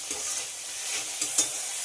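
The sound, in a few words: onions and tomatoes frying and being stirred in a pan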